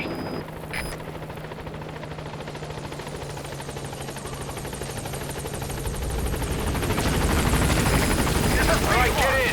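The Pequod helicopter in Metal Gear Solid V approaches a landing zone, its rotor thumping steadily and growing louder and closer, with a radio voice speaking over it.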